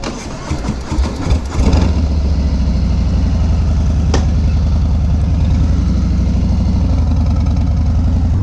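A 2018 Harley-Davidson Fat Bob 114 motorcycle engine cranks and fires up, then settles into a loud, deep, steady loping idle close by.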